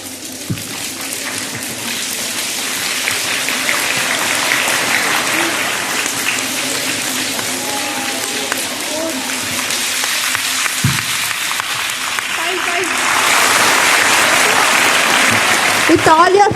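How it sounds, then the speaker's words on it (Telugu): A crowd of college students applauds in unison during a speech, the clapping building louder toward the end, with voices mixed in beneath. "start with this single clap గట్టిగా"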